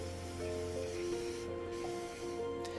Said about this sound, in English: Then I attach these powders to the track bed using hairspray